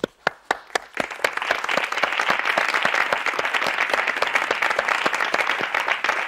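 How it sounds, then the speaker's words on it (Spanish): A few scattered claps at first, then applause from a jazz concert audience swells into steady, sustained clapping. "Gracias por los aplausos."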